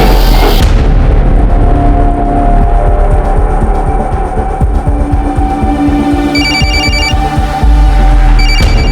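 A mobile phone rings during a tense police house search, its repeated electronic tones cutting through a loud, dense background of music and dramatic sound effects, with no talking over it.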